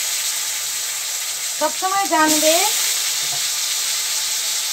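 Potatoes sizzle loudly in hot oil with nigella seeds and green chili, in the same oil used earlier to fry eggplant. The frying is constant and close, and someone speaks briefly over it midway.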